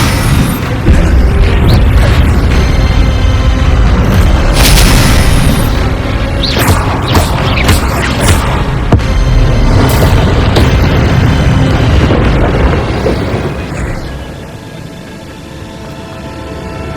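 Loud, continuous barrage of magical spell blasts in the Hogwarts Legacy video game, with repeated booming bursts and crackling impacts layered over a dense rumbling score, easing off near the end.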